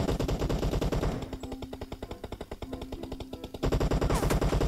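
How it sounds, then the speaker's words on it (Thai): Rapid automatic gunfire from PUBG Mobile in a death match, dense continuous bursts with a short thinner stretch in the middle, loud and close with no talking. "เอาปืนแรงไปจังหวะนี้ ยิงแล้วยิงโดนหัวด้วยวะ"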